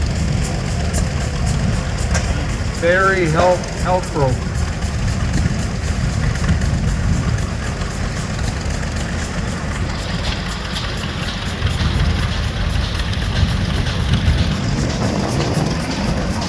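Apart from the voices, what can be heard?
vintage Western Development Museum tractor engine running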